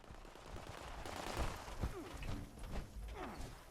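Gunfire in the video game Fallout 76 during a run of headshots, quiet rapid bursts and scattered shots under a low, busy game soundscape, no voices.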